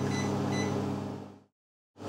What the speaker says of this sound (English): Cake's cooking in the microwave.